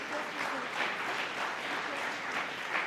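A conference audience gives a big round of applause to welcome dignitaries, a steady, full wash of clapping at moderate loudness from start to finish.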